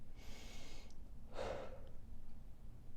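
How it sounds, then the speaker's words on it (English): Heavy, irregular breathing close to the mic, with two breathy bursts of air in quick succession and a steady low background hum underneath. "I'm breathing so weird right now"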